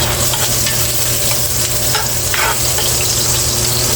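Onions sizzle loudly and continuously in hot cooking oil for chicken arroz caldo, a steady close frying hiss with occasional stirring scrapes, a fan running underneath.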